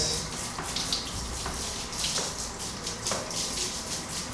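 Water poured over an Acer Enduro N3 rugged laptop, a steady splashing gush with small pulses as the stream shifts, close and continuous without talk.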